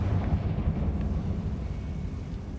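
A Confringo spell explosion in Hogwarts Legacy, a sustained deep rumbling roar like a fiery blast, loud and even with no voices.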